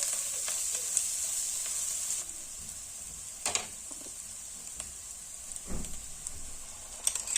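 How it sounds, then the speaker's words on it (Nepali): Masala spices with turmeric fry in a pan for a chicken feet dish, giving a steady soft sizzle with occasional scraping stir strokes and small spatters, close and otherwise quiet. "मजाले फ्राई गर्नुपर्छ मसलालाई, काँचो स्मेल जाने गरेर।"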